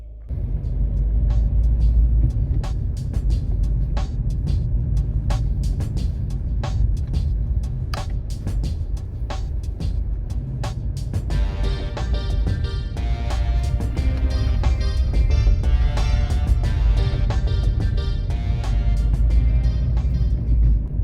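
A car rolls over a badly potholed mountain road near Bhimashankar, India, with a steady low engine rumble and repeated clunks and rattles from the suspension and body.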